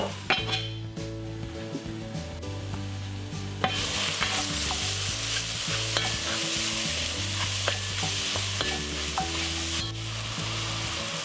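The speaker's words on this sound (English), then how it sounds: "Just need to make sure I keep them moving so that they don't start to burn and overcook in different places." Sliced mushrooms frying in butter and oil over lowered heat, stirred steadily with a utensil; a continuous close sizzle with repeated scraping and knocks against the pan, the frying growing louder partway through.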